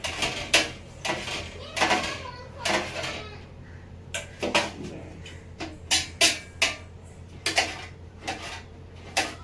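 A knife chopping okra into small pieces on a board, giving quick sharp taps in uneven bursts with short pauses, close by, while a voice talks faintly in the background.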